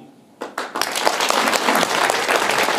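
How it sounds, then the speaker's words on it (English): An audience at a live show in Brampton bursts into applause, the clapping swelling quickly from a few hands into a dense, loud, sustained ovation from a large crowd. "we need to hear the biggest round of applause that all of Brampton, I guess, has ever heard"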